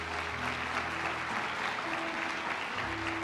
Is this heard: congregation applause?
yes